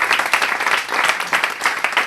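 Audience applause at a round-table political debate, a steady patter of many hands clapping close by for about two seconds with no talk over it.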